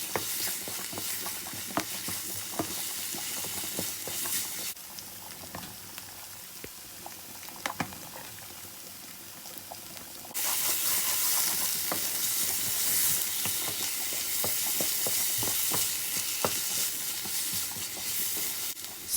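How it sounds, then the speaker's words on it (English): Chickpea curry masala with chili powder is stirred in a sizzling pan. The frying hiss and scraping run steadily for close to twenty seconds, grow louder and brighter partway through, and stay close with no voice. "And then just give that a good mix."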